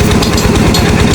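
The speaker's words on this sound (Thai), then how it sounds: "เพิ่นมาเจาะน้ำให้พ่อเฒ่า" A well-drilling machine bores a water well at a home, its engine close and very loud with a fast, rough, pulsing clatter that never lets up.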